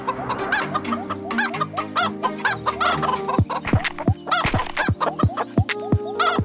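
Video-game chickens cluck in rapid, repeated bursts over background game music, the clucking growing busier and more layered in the second half.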